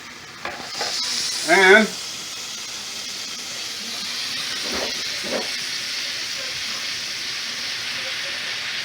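Butter sizzles in a hot pan with ribeye steaks, a steady frying hiss running throughout with a brief louder burst early on and a short spoken word near the start.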